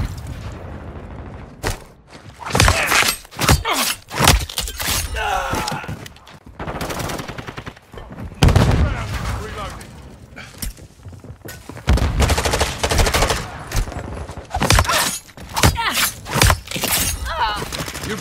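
Automatic and single gunfire in Modern Warfare 2 rattles in repeated loud bursts with sharp impacts and booms, under game voice callouts.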